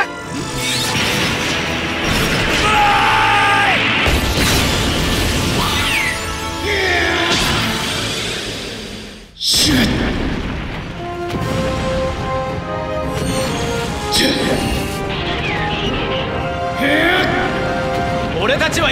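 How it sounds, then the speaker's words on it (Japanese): Ultraman's lava heat ray beam fires and explodes in a loud burst of crashes, whooshes and booming impacts, with a brief cutoff midway before more blasts, mixed with music and shouting voices. "溶岩熱戦発射"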